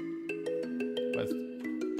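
An Omnisphere kalimba patch plays a straight, evenly spaced arpeggio without swing, its bright plucked notes sounding in a steady mechanical pulse, close and clear with no talking.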